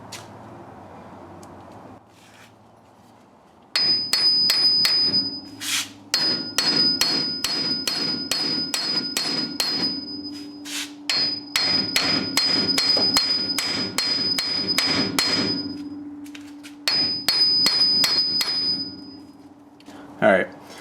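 A hammer strikes a cast iron spindle ball joint in rapid bursts of loud, ringing metallic blows, pausing briefly between volleys, close up and sharp.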